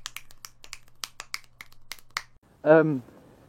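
Close finger clicks offered as applause, about a dozen sharp snaps in an uneven burst over a couple of seconds, then a short spoken voice.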